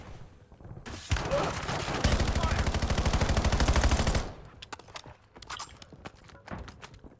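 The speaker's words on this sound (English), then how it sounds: "He's shooting in the window right there." Rapid automatic gunfire in a shooter video game, a dense sustained burst of shots lasting a few seconds and then giving way to scattered single pops and softer game noise.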